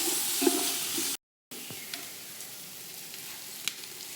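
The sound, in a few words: ginger garlic paste frying with onions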